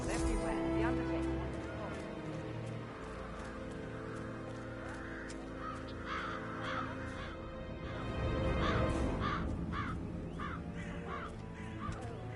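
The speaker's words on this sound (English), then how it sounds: "It's the birds. They're making a racket" Crows cawing in the Hitman 3 video game, repeated harsh caws scattered in a loose irregular rhythm over a low ambient bed, with a voice speaking underneath.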